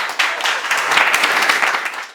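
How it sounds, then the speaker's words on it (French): A burst of lively applause from a small crowd at an improvised theatre match, dense clapping throughout, loud and close. "On l'applaudit"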